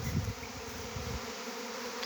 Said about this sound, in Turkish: Arımız oğul vermiş.